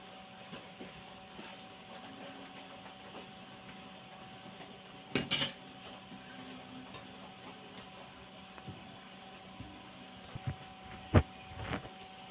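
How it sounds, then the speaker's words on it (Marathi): Spoon working a cashew and coconut sweet mixture in a pan, quiet scraping with a few sharp clinks of metal against the pan standing out over a low hum. "आता आपल्याला हे सगळं मिश्रण जे आहे मिक्स करून घ्यायचं आहे"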